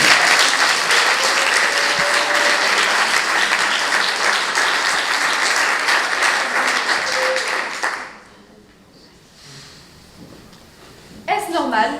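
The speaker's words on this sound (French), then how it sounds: "elle a besoin d'un peu d'applaudissements" An audience at a 2023 eloquence contest final applauds loudly and steadily for about eight seconds. The clapping then drops to a low murmur, and a voice breaks in near the end.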